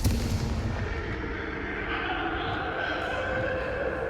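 Confringo fire blast spell cast in Hogwarts Legacy, a dense continuous booming, crackling burst that stays loud throughout with a sustained roaring texture, no gaps.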